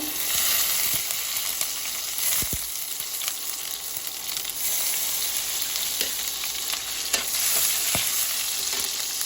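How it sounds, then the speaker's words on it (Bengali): Dry red chillies and panch phoron fry in oil in a pan, a bright steady sizzle with scraping stirs and a few sharp spatters, no voices. "শুকনো লঙ্কা আর 5 ফোড়নের ভাজার একটা ভীষণ সুন্দর একটা স্মেল যখন আপনি পাবেন, তখন জানবেন আপনার এটা ভাজা কমপ্লিট"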